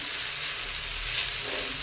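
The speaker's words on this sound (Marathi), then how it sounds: "थोडा कांदा मी अजून टाकला ह्याच्यामध्ये आणि ह्या सगळीकडे असं छान भाजून घेऊया" A steady, loud sizzle of onion roasting on a cast iron pan, a continuous hiss with no talking.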